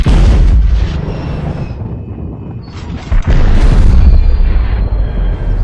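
Shotgun blasts into a watermelon: a deep, loud boom opens the clip, a quieter rumbling stretch follows, then a second heavy blast at about three seconds with echoing low roar after it.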